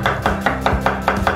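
A knife chops onion and carrot into thin strips on a cutting board, about six crisp, evenly spaced strokes in a quick steady rhythm, close and loud with no talk.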